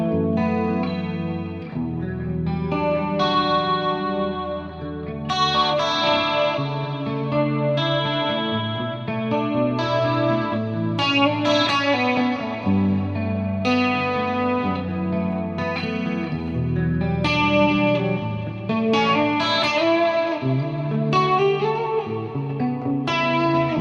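An electric guitar played on a clean preset through a Fractal effects unit, with chorus-shimmered chords and single notes ringing out in a loose melodic phrase, loud and continuous with lingering reverb tails.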